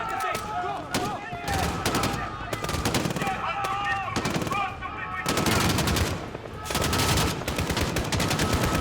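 Sustained automatic gunfire rattles in dense, loud bursts from enemies shooting back in Call of Duty: Modern Warfare (2019), with short pauses between volleys and a voice talking underneath.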